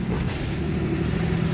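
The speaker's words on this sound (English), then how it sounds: "It turns over and it coughs and sputters, but it just won't like start." A Subaru Forester with no fault codes turns over without starting. A steady, loud, low engine drone runs throughout with no pauses or catches, and no voices are heard.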